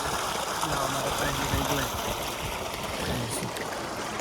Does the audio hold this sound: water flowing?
yes